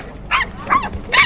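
Dogs for sale on a street market pavement in Madagascar give three sharp, close barks spaced evenly, with faint background noise between them.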